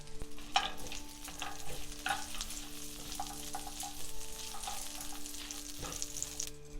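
Whole cardamom, cinnamon, cloves and bay leaves sizzle steadily in melted butter in a pan for butter chicken, a continuous crackling fry with occasional sharper pops and stirring scrapes, close and moderately loud with no talk.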